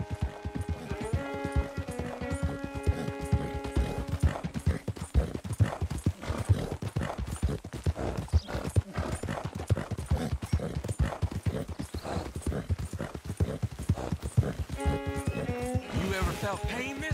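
Horse hooves clip-clop steadily at a brisk, even pace in Red Dead Redemption 2, close and continuous for the whole stretch, with a voice and a brief whinny heard at times over the hoofbeats.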